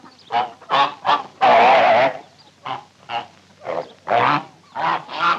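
Ducks honking, around ten loud, nasal, close-up honks in an irregular series, some short and one long drawn-out call, with no one talking.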